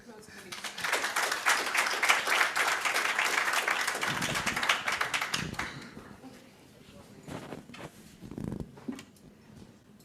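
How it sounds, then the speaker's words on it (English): Audience applause for a speaker at a meeting, dense clapping filling the first half and then thinning into scattered claps with voices talking over it. "Let's give him a round of applause"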